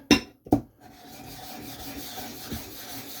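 A blade being honed on a Thuringian whetstone with slurry: two short, close rasping strokes, then a quieter steady scraping hiss.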